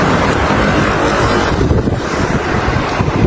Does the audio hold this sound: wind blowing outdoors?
yes